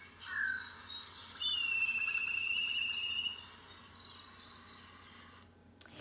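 A European black kite calling alone outdoors, a thin, high, drawn-out whistling cry that wavers and repeats over about six seconds, moderately near, with faint insect-like hum and soft background noise underneath.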